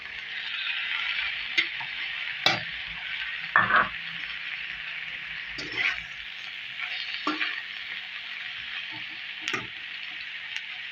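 Tomatoes tumble into softened onions frying in a pan for masala bhindi, bringing a bright, steady sizzle broken by a few spoon knocks and scrapes.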